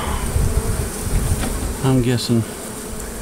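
Bee swarm buzzing during a hive removal, a dense, constant insect hum close by, with someone briefly speaking over it.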